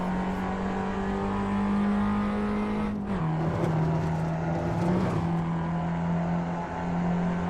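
An Excel race car engine holds a steady drone at the top of second gear, then dips and revs again through a chicane, loud and close like an onboard recording.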